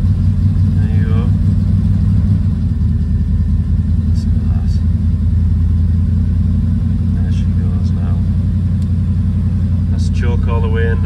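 A Triumph Stag engine idles after start-up with a steady, loud, low rumble and a close, even tick-over while the choke is eased in. Brief voices come through over it now and then.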